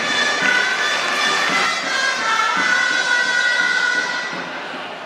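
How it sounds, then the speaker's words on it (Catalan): An audience at a ceremony crowning the Pubilla and Hereu of Anglès claps and cheers, dense sustained applause with whistles and shouts that fades slightly toward the end. "Un aplaudiment."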